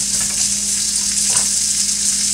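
Tomatoes fry in butter in a pan with a loud, steady, dense sizzle that holds evenly throughout, close up and with no talking.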